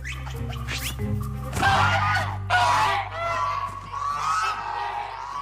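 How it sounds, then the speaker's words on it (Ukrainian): Loud, honking screams rise and fall in harsh bursts, close by, like agitated geese crying out over a low steady hum. "Такий крик буде чути навіть у понівілі"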